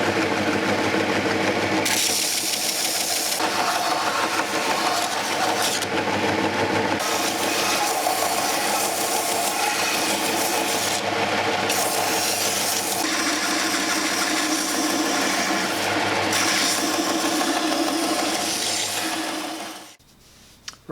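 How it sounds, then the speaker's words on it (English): A power grinder puts the initial bevel on a forged parang knife, a loud continuous abrasive whine with brief dips in pitch where the blade is lifted, then cutting off sharply near the end. "I'll put the initial grind onto the knife"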